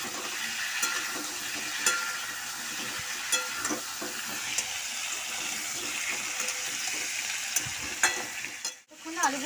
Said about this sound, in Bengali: ভালো করে মিক্স করে নেব আলুগুলো